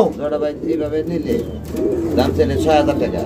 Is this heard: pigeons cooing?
yes